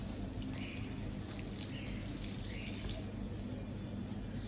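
Water pours over potted plants in a steady, continuous splashing flow, fairly quiet and unbroken throughout, with no talking.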